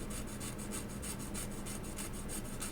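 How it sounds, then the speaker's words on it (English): Steady abrasive rubbing of a drill bit tip on a diamond plate, a dry scraping rasp repeated in quick even strokes, close and continuous with no talking. "rub that on the diamond plate to create a point"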